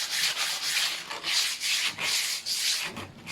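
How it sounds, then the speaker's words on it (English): Medium grit sandpaper rubbed by hand along the edges of wooden door case moldings, about seven steady back-and-forth strokes with a dry, hissing scrape, close up, with no voices. "Just take some medium grit sandpaper."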